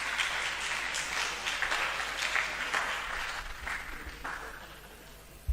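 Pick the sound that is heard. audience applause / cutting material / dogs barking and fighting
audience applause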